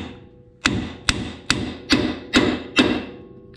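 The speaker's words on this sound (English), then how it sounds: "let's try to see if I can give it a couple whacks." Hammer whacks on a control arm bolt of a 1st gen Toyota Tundra, six loud close metallic strikes spaced roughly half a second apart, each ringing briefly.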